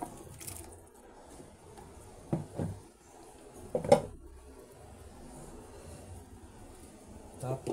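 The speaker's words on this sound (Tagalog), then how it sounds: "Ngayon ilalagay ko na yung kamatis at saka okra." Tomatoes drop into a simmering pot of pork sinigang with a few soft thumps and splashes spaced over several seconds, set against a quiet kitchen background with a person talking.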